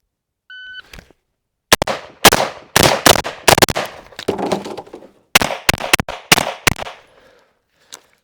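Rifle and pistol fired during a 2-gun practice stage: a short timer beep, then a burst of sharp, loud shots in quick succession, a pause, and a second rapid string of shots, ending with a lone faint crack.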